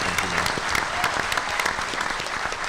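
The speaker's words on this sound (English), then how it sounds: "can we get a round of applause for John Patton" A panel audience bursts into continuous applause for John Patton at a 2017 gun collective panel event, dense steady clapping filling the room with a few louder sharp claps near the front.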